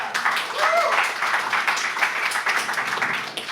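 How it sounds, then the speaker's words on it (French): A live comedy audience in Montreal applauds and cheers, with dense clapping and shouts rising together in a loud, continuous burst. "Applaudissez-vous."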